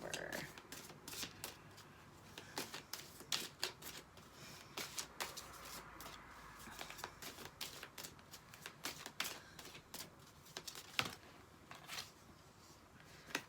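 Tarot cards are shuffled in steady rapid riffles and slides, a close, continuous papery flutter with crisp snaps, lasting throughout with no voice over it.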